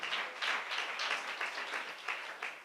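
A church congregation claps together in a steady, soft rhythm, heard faintly and somewhat distant with no voices over it.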